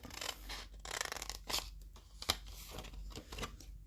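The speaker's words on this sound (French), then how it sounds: "je coupe un peu les côtés en biseau" Scissors snip and slide through paper while trimming the sides of a small gift box at a bevel, a series of close, soft crisp cuts with short pauses and light rustling between them.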